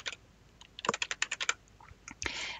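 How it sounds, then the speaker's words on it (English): Rapid bursts of key presses on a computer keyboard, a quick run of close, crisp clicks followed by a short pause and a final flurry, with no talking. "start typing your keywords in here."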